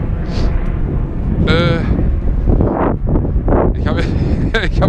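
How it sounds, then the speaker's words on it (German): Gusty wind buffeting a head-mounted GoPro microphone outdoors at an RC model field, a steady loud low rumble throughout with a person talking over it. "Hier ist ein bisschen windig."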